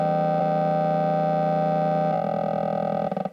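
A sustained buzzing bass synth tone from a Dedalo Byte pedal processing a bass signal, suddenly shifting texture partway through, then breaking into stuttering glitchy pulses before cutting off.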